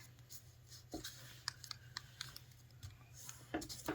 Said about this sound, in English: Now take this side and fold it to the center